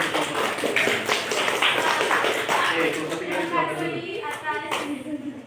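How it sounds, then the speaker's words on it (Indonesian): A physics class claps for a presenting student group, a brisk patter of many hands close by, with children's voices mixed in and a few tonal voice sounds near the end. "Beri tepuk tangan dulu."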